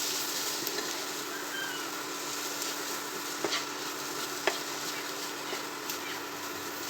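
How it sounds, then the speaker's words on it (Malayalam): Tomatoes and potatoes fry in a pan for a village-style potato roast, a faint even sizzle with a couple of sharp spatula clicks as the mixture is stirred. "നല്ലൊന്ന് ഇളക്കി കൊടുക്കാം."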